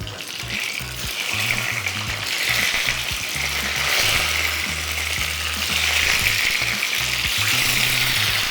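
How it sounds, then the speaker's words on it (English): Boiled eggs frying and searing in a hot pan for an Indian egg curry, giving a loud, continuous crackling hiss that holds steady throughout. "I'm going to just fry these straight away, sear them off"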